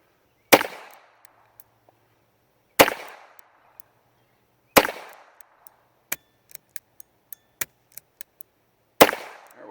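An H&R 622 revolver fires four loud, sharp gunshots a couple of seconds apart, each with a ringing decay, plus a run of quick metallic clicks from hammer snaps and misfires between the third and fourth shots.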